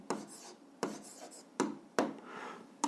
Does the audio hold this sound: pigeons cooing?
no